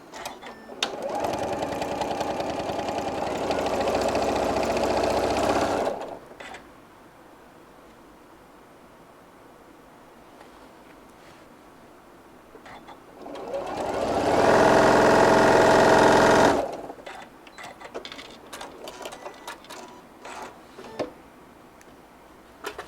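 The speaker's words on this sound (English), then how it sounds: "And I'm just going to straight sew that down." A sewing machine runs a straight stitch along a half-inch seam allowance on a brim hat, in two steady bursts of about five and three seconds separated by quieter handling noise.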